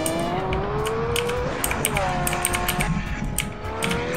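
Car engine in a Roblox GTA-style driving game, a steady droning motor whose pitch climbs and falls as it revs and shifts, loud and continuous, with faint game clicks above it.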